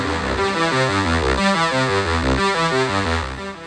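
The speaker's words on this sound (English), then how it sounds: "If I add delay, it'll thicken the sound to a point where the delay becomes big enough that you start to hear individual notes being played." A TAL-U-NO-LX synth plays a sawtooth patch with delay, a dense buzzing run of notes whose echoes blur into a thick, steady, moderately loud wash.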